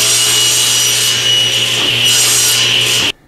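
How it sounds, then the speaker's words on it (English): A table saw rips a thin strip of cherry wood, a loud, steady whine of blade through the board lasting about three seconds before cutting off abruptly, with no voices. "we'll do that next with the table saw"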